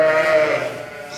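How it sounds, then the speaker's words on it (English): A ewe sheep bleating loudly during lambing, one long wavering bleat close to the microphone that fades toward the end. "the racket off these sheep is wild"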